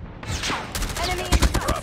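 Bursts of gunfire from the mobile shooter Call of Duty Mobile during a Domination match, rapid sharp reports with two heavier shots near the end, sounding over game voice callouts and chatter.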